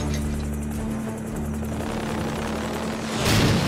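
Apache attack helicopter from an animated Godzilla series flying nearby, a steady loud rotor drone with a sharp whooshing swell near the end, no voices.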